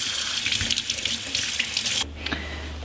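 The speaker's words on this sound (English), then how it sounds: "So I'm gonna go give this one a little rinse." Kitchen tap water runs steadily into a sink while a small sardine is rinsed under it, a close continuous splashing hiss that drops away near the end as the flow is cut off.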